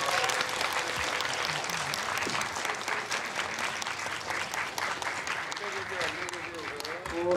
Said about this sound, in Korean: 그럼 퇴장하시는 동안 박수로 보내드리도록 하겠습니다.